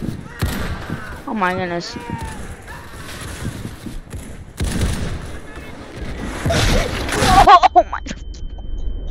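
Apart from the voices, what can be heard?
artillery fire in a video game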